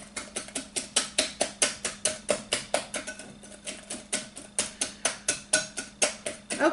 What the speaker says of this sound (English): just whisk it around really good till it's thoroughly mixed and smooth